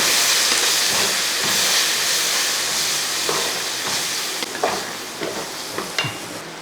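Soya chunks with tomato sauce, soy sauce and spice powders get stirred in a hot pan, a loud steamy hiss and sizzle that eases off as spoon scrapes and clacks come through near the end.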